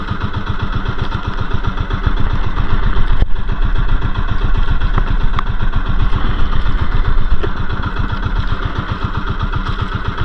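A boat engine runs steadily at close range on a fishing trip during low tide, a loud, even, rapid putter with a medium-pitched chug and no speech over it.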